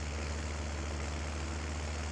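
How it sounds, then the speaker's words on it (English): An Oliver tractor in Farming Simulator 22 drives along a road, its engine giving a steady, low, rumbling drone with no break. "Big old tractor here, and big old Oliver coming down the road."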